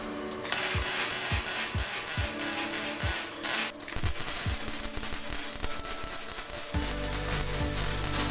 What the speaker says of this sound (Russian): Обварку начинаем с другой стороны, чтобы не повело конструкцию.